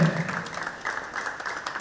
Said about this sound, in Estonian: Ja kõik aplausiga muidugi